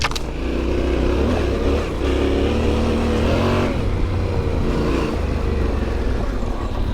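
Yamaha Tenere 700 motorcycle engine droning steadily while riding off-road, a loud, continuous rumble with slight shifts in pitch as the throttle varies, filling the whole stretch without a break.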